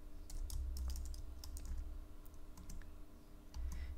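Clicky keystrokes on a computer keyboard as a command is typed, a steady run of close taps over a low, constant hum, with a short pause before a final burst of keys.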